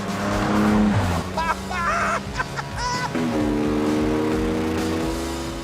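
A Jaguar E-Type sports car engine revs hard and roars close by, its pitch climbing and dropping through several bursts with a brief squeal, while a person exclaims over it.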